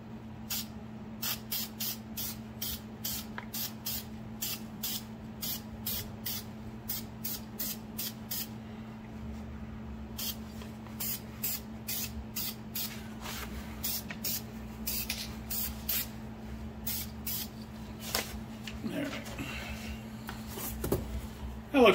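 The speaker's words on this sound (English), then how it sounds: "put a little paint on the axle" Rapid bursts of spray paint applied to the rear axle of a 1974 Pontiac Trans Am with a Moser rear end, about two dozen short hisses in a steady rhythm over a low hum.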